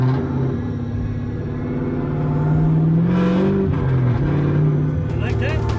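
A widebody BMW M4 fitted with a V8 revs loudly from inside the car on a track, its engine note climbing and falling in a steady drone while people talk over it.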